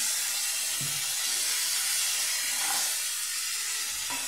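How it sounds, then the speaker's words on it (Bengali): Spice paste hissing in a pan just after a little water is added, a steady close broadband sizzle and steam hiss throughout, fairly quiet and unbroken. "মশলাটা কষিয়ে নিচ্ছি যাতে পুড়ে না যায়। অল্প জল দিয়ে দিলাম।"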